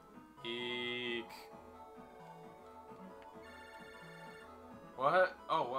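An electronic phone-call ringtone in Mega Man Battle Network 3 chirps in a looping synthesized melody of repeated beeping tones, joined near the end by brighter rising chime-like notes, fairly quiet and clean.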